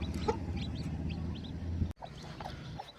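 A domestic hen clucks close by beside newly hatched multicoloured chicks, her soft repeated clucks mixing with faint high peeps over a steady low background, with a brief break near the end.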